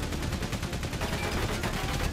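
Sustained, dense gunfire in the World War I video game Valiant Hearts: The Great War, rapid shots running continuously at steady loudness throughout.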